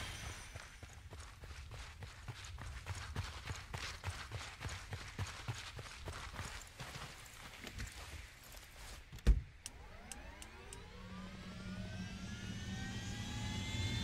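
Helicopters in Ghost Recon Wildlands fly close with steady rhythmic rotor chop and engine roar, then a sharp impact followed by a sweeping, Doppler-like pass of whining engines that builds toward the end.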